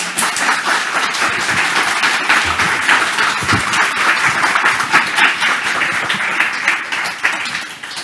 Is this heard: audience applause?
yes